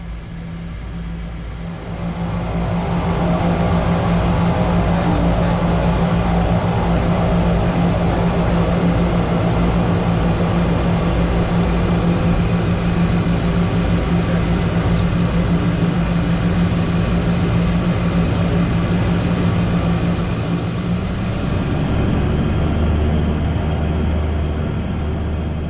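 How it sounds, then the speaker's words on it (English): Turbo Commander 690B twin-turboprop taxiing out for takeoff, a steady loud turbine drone with a constant low hum heard from inside the aircraft, shifting in tone near the end. "As we taxied out for the takeoff"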